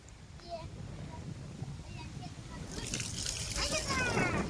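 Millet being washed in water sloshes and splashes close by, growing louder toward the end, with voices talking faintly in the background.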